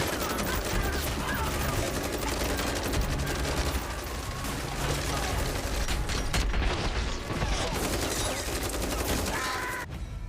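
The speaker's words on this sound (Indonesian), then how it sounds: "mendengar suara tembakan dari gerbong belakang" Rapid bursts of gunfire from the war film Sisu 2, dense overlapping shots and mechanical clatter sustained throughout at high intensity, with an abrupt break near the end.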